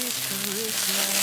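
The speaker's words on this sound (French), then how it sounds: "Ah voilà les bananes flambées." Bananas sizzle as they are flambéed in a pan in a tiny apartment kitchen, a steady close frying hiss with faint tonal whistles running through it.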